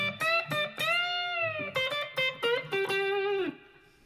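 Electric guitar notes played in a blues lick, with sustained tones bending upward in pitch, close and clear, with no talking.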